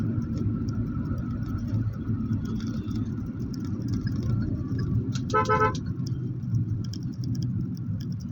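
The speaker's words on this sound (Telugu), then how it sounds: "ఈ రూట్లో ఎప్పుడు కొంచెం ట్రాఫిక్ ఎక్కువగానే ఉంటుంది అన్నమాట." Steady road traffic rumbles on a busy route near Koyavaripalem between Guntur and Parchur in India, with one short burst of car horn honking partway through and no talking.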